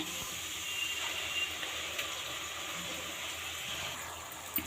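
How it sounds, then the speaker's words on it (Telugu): Tomato puree poured into a pan of fried onions, a soft continuous hissing, pouring wash with faint sizzle, quiet and close, no voices. "ఇప్పుడు మనం ఈ టమాటా ప్యూరీ వేసుకుందాము"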